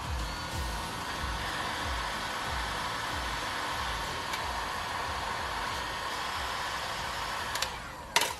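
A heat gun blows steadily on a fender rolling blade, a constant loud whooshing hiss of air with a faint pulsing rumble underneath and a brief clunk near the end.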